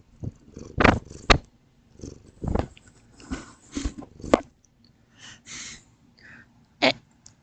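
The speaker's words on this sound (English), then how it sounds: "Now I have a cat in here." A cat kept indoors makes a series of soft, close sounds in short bursts, with quiet gaps between them and no talking.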